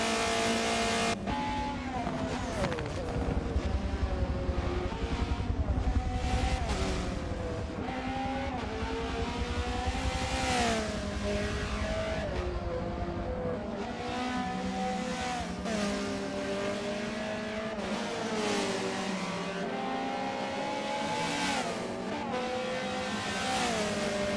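Touring race cars lap Watkins Glen in a racing video game, engines droning and shifting pitch continuously as they rev up and down through gears, a steady loud motor sound with no talk.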